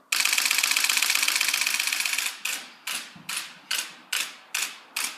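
Nikon D700 with battery grip firing its shutter: a rapid machine-gun burst of crisp mechanical clicks for about two seconds, then seven slower, evenly spaced single shutter releases, close and clear with no talk.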